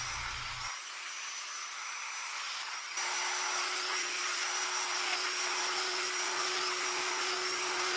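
A domino joiner cuts mortises into wooden slats held in a jig, giving a loud, steady high-pitched whine that jumps in level partway through and runs without a break to the end.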